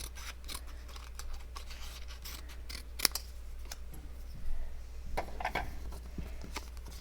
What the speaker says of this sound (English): Now I'm going to cut the pecan pie one in half.